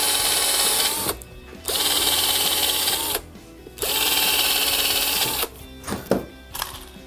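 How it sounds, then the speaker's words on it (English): Small pilot holes being drilled into pallet wood with a power drill, three whirring bursts of about a second or more each, separated by short pauses, close and loud. "A couple of little pilot holes."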